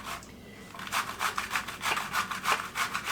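A large, overgrown zucchini is rubbed against a kitchen grater in steady, rhythmic rasping strokes, about a dozen close scrapes with no talking.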